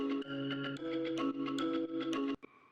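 Wavy, pulsing chords sit under a light percussive shaker layer, a steady loop of soft stabs with shimmering high ticks, ending abruptly with a brief trailing tail.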